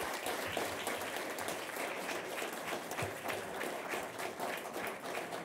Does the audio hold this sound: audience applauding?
yes